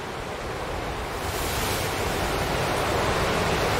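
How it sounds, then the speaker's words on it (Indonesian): Ocean surf breaking on a shore, a steady broadband wash that swells slightly louder toward the end, close and continuous with no voices. "ketika kita baru masuk di sini tadi itu ombaknya tidak seperti biasa ya"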